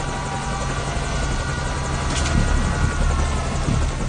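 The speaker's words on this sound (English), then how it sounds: "Okay, the enemy has spotted our helicopter, so let's defeat them before we get shot down." Helicopter in the video game Metal Gear Solid V: Ground Zeroes, a loud, continuous rotor drone with steady beating and engine whine, close and unbroken for the whole stretch with no talk.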